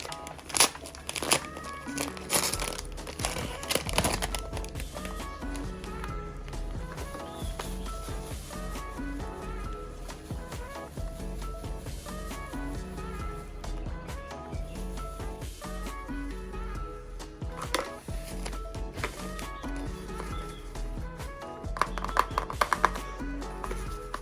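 Chopped boiled egg is stirred by hand into dry wheat bran as feed for breeding flies, giving close, continuous crinkly rustling and crunchy scraping against a steady musical background.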